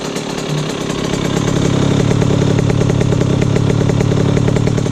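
A Yamaha YZ65 two-stroke dirt bike with stock exhaust idles close by, a steady, loud buzzing rattle that thickens slightly after the first second and holds evenly throughout.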